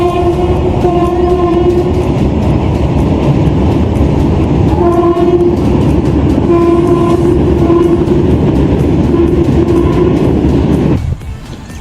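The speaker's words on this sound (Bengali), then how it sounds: "ওই দেখতে পাচ্ছ একদম কমলা কালারের অমৃত ভারত এক্সপ্রেস যাচ্ছে।" An orange Amrit Bharat Express passes close by, a steady loud rumble of wagons carrying repeated train horn blasts throughout, then the noise drops sharply near the end.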